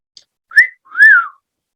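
A person whistles two clear notes, a short rising chirp then a longer swooping tone, loud and close against silence.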